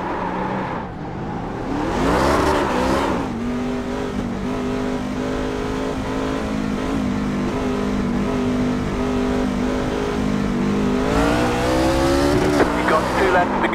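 A race truck at Charlotte accelerates hard, its engine rising into a loud, close, sustained roar that holds high and steady before climbing again, with a voice briefly heard over the engine.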